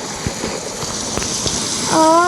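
Steady rain falls in a continuous wash in a video game, with a brief tonal chime rising near the end.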